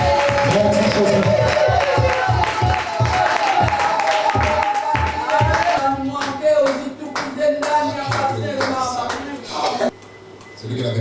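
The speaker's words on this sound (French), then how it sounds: "Acclamez très fort, acclamez très fort." A church congregation claps in a steady, loud rhythm with cheering voices rising through a worship service, the pulse continuing for several seconds before thinning out near the end.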